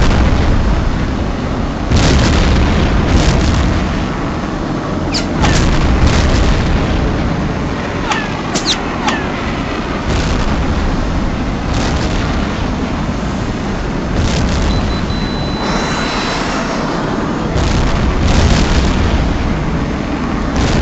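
Aircraft guns firing on ground targets in the HAWX combat flight game: continuous loud roaring bursts of cannon fire and booming impacts over dense engine rumble, with brief radio chatter.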